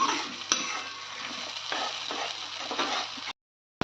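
Vegetable gravy cooks in oil in a pan, sizzling and bubbling steadily up close with occasional stirring scrapes, then cutting off abruptly to silence.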